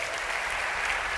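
Congregation at a church youth service clapping together, a dense, steady wash of applause filling the whole short moment.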